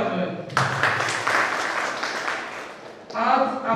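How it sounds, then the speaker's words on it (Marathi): An audience at a student felicitation event in Pune breaks into a burst of applause, pauses briefly, then claps again, loud and dense, with a voice heard near it. "तर त्यांच्यासाठी सर्वांनी टाळ्या वाजवाव्या."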